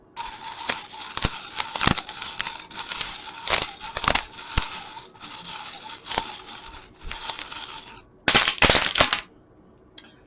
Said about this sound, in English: I'm going to shuffle, and then I'm going to throw the charms around on the board